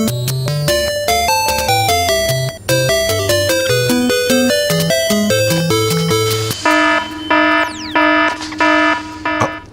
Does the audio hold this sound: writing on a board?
no